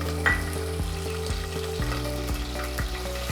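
Green chillies and onions frying in hot oil in a pan for tomato bath, a steady close sizzle with clinks and scrapes of a spoon stirring at a regular rhythm, with no talking.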